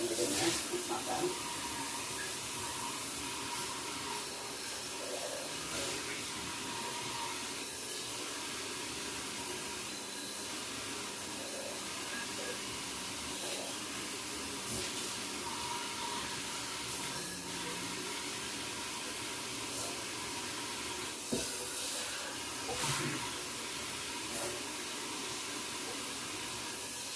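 Hot tap water runs steadily while a dish is rinsed and washed, a continuous hiss and splash with occasional clatter, at moderate loudness for the whole stretch.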